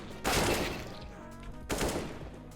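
Two loud bursts of gunfire from Counter-Strike: Global Offensive, each a dense broadband volley, the first at the start and a second about a second and a half later, with no talk over them.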